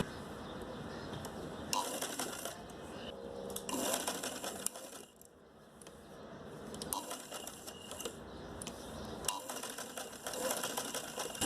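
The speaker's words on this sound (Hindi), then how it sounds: "फिर इसके ऊपर आप सिलाई लगाएं।" A sewing machine stitches seams on a homemade cloth face mask, its close, steady mechanical whirr running in long stretches with a brief pause near the middle.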